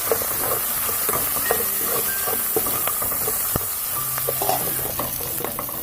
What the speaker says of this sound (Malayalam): ചെറുതായി അരിഞ്ഞ ഇഞ്ചി, അതുപോലെ വെളുത്തുള്ളി, ഒരു 2 പച്ചമുളക്, ഇത്രയും നമുക്കിട്ട് നന്നായി വഴറ്റാം